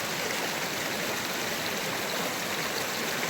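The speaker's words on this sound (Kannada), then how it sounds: "ಈ ನೀರಿನ ಸೌಂಡ್ಗೆ ಒಂಥರ ಏನೋ ಫೀಲಿಂಗ್ಸ್ ಆಗೈತೆ ಇವರು" A stream flowing beside houses rushes steadily and loudly, with a constant, even wash of running water throughout and no other clear sounds.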